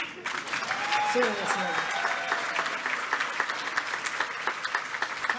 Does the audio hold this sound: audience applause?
yes